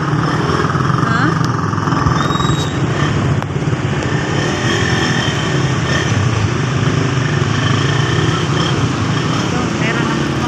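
A motorcycle engine idles steadily in a flooded street in Pasay, a continuous close rumble that runs the whole time beneath people talking.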